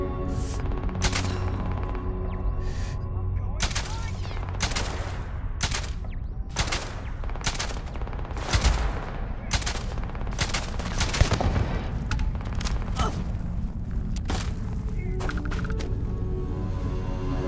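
Rapid, loud gunfire from a Starfield firefight, played on very hard difficulty, rattles almost continuously, with dense shots in quick succession over a steady low hum and music.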